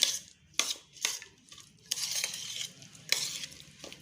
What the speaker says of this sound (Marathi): आता आपण हे दही तयार केले ह्याच्यात घालायचं आहे आणि कालवून घ्यायचं आहे असं छान कालवून घेऊया